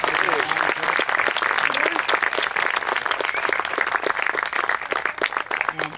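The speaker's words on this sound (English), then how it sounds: "a round of applause for these young gentlemen" An audience at a ceremony gives a dense, sustained round of applause, many hands clapping steadily and fairly close, with murmurs of voices underneath.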